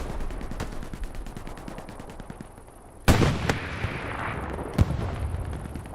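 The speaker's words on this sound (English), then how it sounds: "Franco with rockets going off onto the light tank." Rockets slam into a light tank in a World War II tank battle game at Kursk, a sharp loud blast at mid-clip followed by a second impact, over a steady rumble of earlier machine gunfire.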